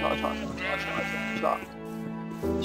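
Sheep bleating in Minecraft, several blocky in-game bleats in quick succession, loud and close over a steady game music and sound bed, with a voice talking excitedly alongside.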